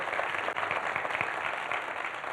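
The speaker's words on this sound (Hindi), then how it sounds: "तो एक बार वेदा के लिए जोर से ताली बजाएंगे." Steady applause from a fan-meet audience in an indoor venue, a dense even patter of many hands clapping throughout, moderately loud with no voices on top.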